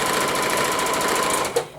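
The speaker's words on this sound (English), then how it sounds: "I'm sewing it with white thread on a brown piece of material" A sewing machine stitches white thread through brown material for a craft bead board, a loud, steady, rapid mechanical whirr of the needle that stops abruptly near the end.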